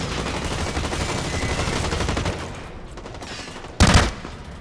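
Rapid gunfire from the video game Blacklight Retribution, a dense stream of shots for a few seconds that thins out, followed by one loud sharp blast near the end.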